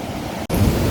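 Sea surf on a Kerala beach, a steady broad rush of breaking waves close by that cuts out for an instant and then returns slightly louder.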